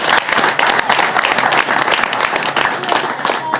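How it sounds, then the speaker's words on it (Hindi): A crowd at a Congress party political rally in a Haryana village ward claps loudly and continuously, with voices and cheering mixed into the dense applause. "बजाओ ताली फिर एक बार।"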